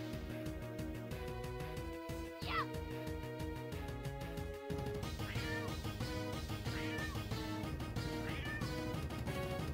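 A cat pet meows a few times in the game Mabinogi over busy, steady game music with plucked tones; the meows are short, rising cries standing out above the backing track.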